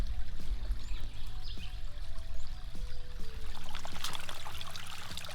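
Water runs steadily through a gold-prospecting sluice box set at about four degrees of drop, a continuous pouring and trickling wash over the mat with faint knocks of gravel.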